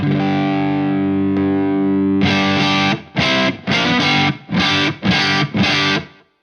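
An overdriven electric guitar through a JHS Bonsai pedal in its JHS Strong Mod setting rings out a sustained distorted chord, then chugs through several loud, gritty chopped strums with short pauses between them.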